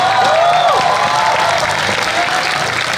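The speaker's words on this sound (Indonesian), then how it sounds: "Iya, tepuk tangan." An audience claps through a Sule and Cepot comedy talk show, with sustained, dense applause and some crowd noise. A faint whistle-like tone rises early on.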